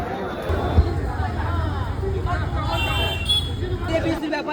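Busy crowd on Zakaria Street during Eid, a dense murmur of many voices with faint traffic behind, while a nearby voice talks over the hubbub.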